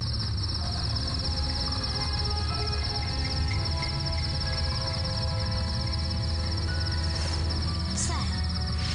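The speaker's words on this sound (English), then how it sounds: "Did you hear that? It's crickets." Crickets chirping in a night village scene in the Escape From Horrorland video game, a dense steady high trill that runs on without pause, with a faint tick near the end and no talk.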